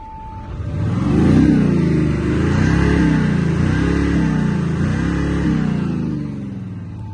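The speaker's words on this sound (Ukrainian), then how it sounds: "коли ми міняємо стилі їзди, вибираємо от динамік, звук двигуна міняється" An Audi S6 engine in dynamic drive mode revs hard and loud, rising and falling in pitch several times in sustained pulls with a deep, throaty roar.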